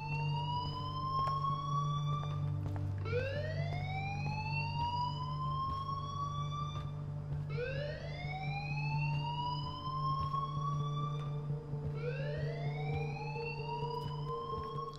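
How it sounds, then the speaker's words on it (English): An alarm rings in the video game Life Is Strange, a repeating electronic siren with rising whoops at a steady rhythm, continuous and fairly loud over a low hum. "So maybe the alarm, I can turn the alarm off inside that door."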